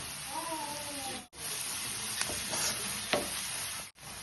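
Sliced onions with a little salt sizzle softly in a pan, a quiet continuous frying hiss with a couple of sharp stirring scrapes and brief dropouts in between.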